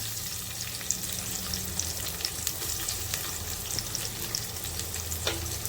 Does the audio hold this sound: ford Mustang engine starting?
no